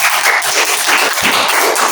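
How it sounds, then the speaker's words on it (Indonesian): A classroom of trainees claps for a student group, a dense, loud burst of hands applauding in a small room for about two seconds. "Tepuk tangan dulu untuk kelompok 1."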